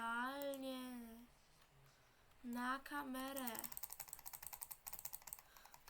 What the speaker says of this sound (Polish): Teraz będziecie strasznie słyszeć moją myszkę, bo będziecie... Bo, bo klikam butterfly klikiem